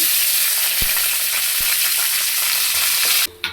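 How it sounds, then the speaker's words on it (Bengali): Yardlong beans fry in hot oil in a pan, a continuous loud sizzle with a couple of soft knocks, ending abruptly as the sizzle cuts away. "এবার বরবটিগুলো লাল লাল করে ভেজে নেব"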